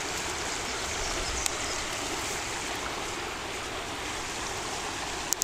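Creek water flows steadily at Rock Cut State Park, a broad, continuous rushing wash heard close and alone, with no voices.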